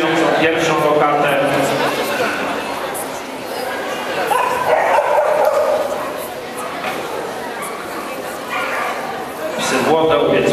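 Young puppies aged six to nine months bark and yip at a dog show, with a steady din of crowd chatter and voices around them throughout.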